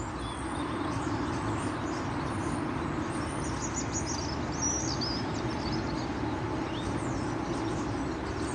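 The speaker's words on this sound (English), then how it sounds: "we're just listening to the birds." Birds chirp and sing in a back garden in winter. The high calls are faint and scattered over a steady rumble of distant traffic that runs the whole time.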